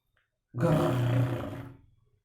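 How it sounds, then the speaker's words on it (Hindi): A big cat's roar in a comic-style animation: one loud, deep, rasping roar that starts abruptly, holds strong for about a second, then fades into a rumbling tail, with no talking over it. "चिताल की दहाड़ के बाद अद्भुत नजारा प्रस्तुत हुआ।"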